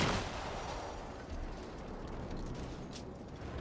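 Sustained gunfire from a video game shooter, aimed at an enemy machine, forms a dense, steady rattle of rapid shots with no clear breaks, loud and close throughout.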